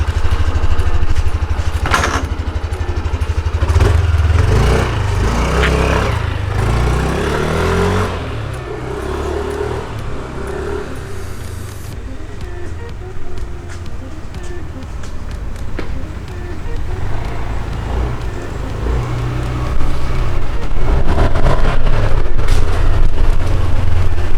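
A 2020 Yamaha NMAX scooter with a VVA engine runs steadily close by, a continuous low engine drone that swells and eases slightly, rising toward the end, with no talk over it.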